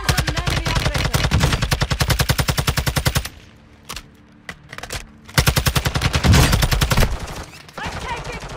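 Automatic gunfire in Call of Duty: Modern Warfare II on Ashika Island, loud rapid bursts of shots that break off into a brief lull with a few scattered single shots, then resume in another long burst.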